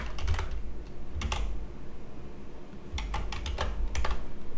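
Typing on a computer keyboard while editing text on a master branch, heard as close bursts of quick key clicks in two clusters with a short pause between, with no talk over it.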